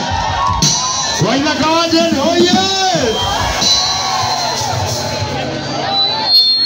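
Crowd cheering and whooping at a live collaborative song performance, a steady roar of voices with shouts rising around a singer's melodic vocal lines.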